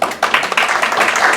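Audience applause for a presenter at a public-administration evaluation talk, a short burst of clapping that starts quickly and continues steadily for about a second and a half, fairly loud and close.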